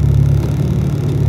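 Modified Honda Integra DC2 track car engine running loud and steady close by, a deep continuous drone with no break and no voices.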